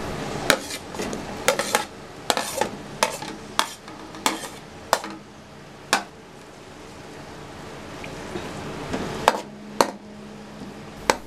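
Onions stirred into hot ghee in a pan while cooking tori, with sharp spoon clinks and scrapes against the metal at irregular intervals over a soft background sizzle, close and moderately loud.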